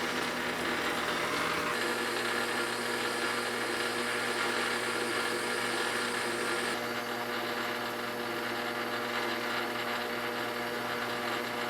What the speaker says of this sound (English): I got the lathe slowed down to about 150 RPM now